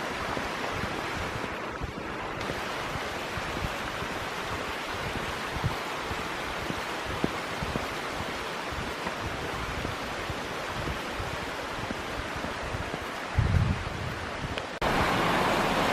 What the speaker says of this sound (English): right next to it is a little river